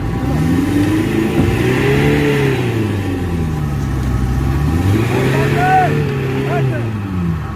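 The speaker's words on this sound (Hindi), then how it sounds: "साहब ने गाड़ी दलदल में घुसा दी रे।" A car engine revs hard and repeatedly while the vehicle is stuck in swampy mud beside a Punjab river. The close, loud pitch rises and falls in long surges, and voices talk throughout.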